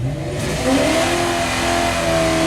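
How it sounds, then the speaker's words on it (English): A drag car revs hard at a drag strip before its burnout, a loud, sustained engine roar climbing in pitch and holding steady at high revs, close and continuous. "Let him do his burnout first."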